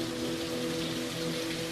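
Freezing rain falls steadily during a prolonged Montreal ice storm, a dense continuous patter with a low hum beneath it, even and unbroken throughout.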